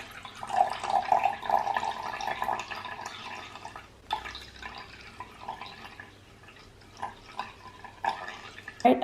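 Water being poured and mixed with rosemary for a homemade hair spritz, a light splashing trickle with scattered drips and small bursts, close and fairly soft.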